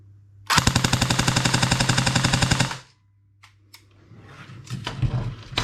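Airsoft gun with a T238 brushless motor on a 7.4 volt battery firing full auto through a chronograph: a loud, rapid, even burst of about two seconds, then quieter handling noises.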